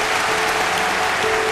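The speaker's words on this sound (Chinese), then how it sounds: "掌声有请" An audience applauding on a televised talent show stage, a brief burst of loud, dense clapping that fills the whole moment.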